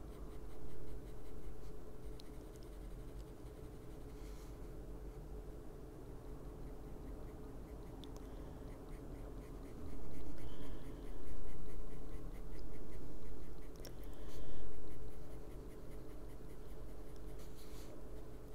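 Coloring pencil in an Umber shade scratching steadily on thin paper in an adult coloring book, a continuous close dry rasp with a few louder stretches of firmer strokes.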